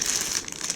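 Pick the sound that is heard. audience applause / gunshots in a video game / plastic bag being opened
plastic bag being opened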